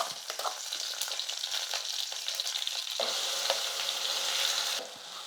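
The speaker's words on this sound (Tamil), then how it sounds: "கருவேப்பிலை சேர்த்துட்டு நம்ம அரைச்ச விழுது வந்து இதில் சேர்த்துட்டு நல்லா வதக்கிக்கலாம்" Curry leaves and a ground okra chutney paste sauté in hot oil with a constant crackling sizzle, broken by scattered spatters and stirring clicks, close and alone.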